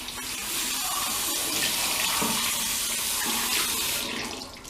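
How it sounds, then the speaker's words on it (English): Water runs steadily from a tap into a sink while hands are washed before a face cleanser is used, a continuous close splashing hiss with slight shifts as the hands move under the stream. "Wash your hand with the water."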